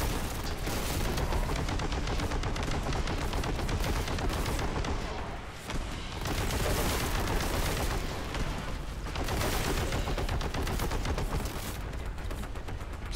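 Rapid, dense weapon fire from a plasma gun in the video game Warhammer 40,000: Boltgun, loud and continuous with brief dips around the middle, layered with booming impacts.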